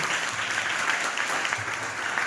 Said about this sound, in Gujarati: તાળીઓ વગાડો જગદીશભાઈ માટે.